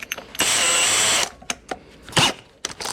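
A power drill fitted with a 1/4 inch bit bores through a panel during an EV charger installation, giving one loud sustained whine of about a second, with shorter bursts of drilling and clatter before and after.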